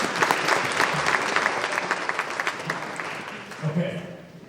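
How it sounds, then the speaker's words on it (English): An audience at a Long Island chamber of commerce event breaks into steady applause, a dense wash of clapping that gradually fades, with a few voices calling out near the end. "let's give them a round of applause"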